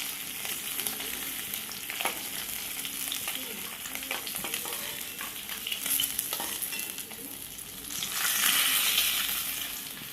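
Okra and tomatoes frying in a pan of oil for a village-style rohu fish curry, a continuous close hiss with scattered stirring scrapes that swells louder near the end, no speech.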